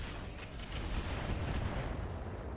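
Mortar rounds slamming into a Victor mech in the BattleTech mod RogueTech, a dense, rumbling low-end blast that swells and sustains for a couple of seconds, heard alone without talk.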